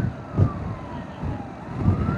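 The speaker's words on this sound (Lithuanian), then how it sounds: "O, su sirenom, tik iš priekios nesimato." Police car and fire engine sirens rising and falling through heavy traffic noise on a street in Šiauliai, with a steady wailing tone that sweeps down and back up, fairly distant and partly masked by rumble.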